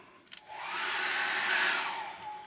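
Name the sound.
hair dryer drying acrylic paint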